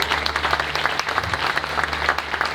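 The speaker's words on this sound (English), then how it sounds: "Give her a little round of applause for doing that." Audience applause in a room, brisk, fairly close clapping from a modest group, steady and sustained with a low hum beneath.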